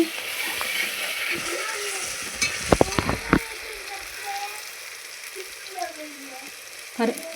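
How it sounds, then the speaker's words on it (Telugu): Gongura leaves cooking in a pan beside a mutton gongura dish: a steady close sizzle and bubbling hiss runs throughout, with a few sharp clinks of a utensil partway through and no voices. "గోంగూర కూడా ఉడుకుతుంది."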